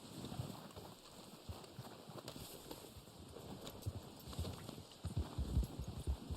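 Horse hooves clip-clop at a steady walking pace in Red Dead Online, a run of close, rhythmic thuds that grow louder toward the end, with faint wind behind them.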